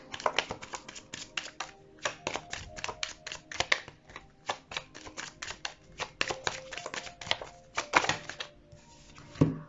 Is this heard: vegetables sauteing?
no